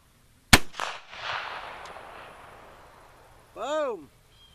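A single loud, close blast from a Kentucky .50 caliber black powder rifle, its report trailing off into a long echoing rumble, followed by a brief voice.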